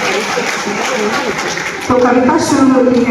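Applause rises from an audience at a college festival event at Miranda House, Delhi University, a steady wash of clapping that grows louder near the end while a voice speaks over it.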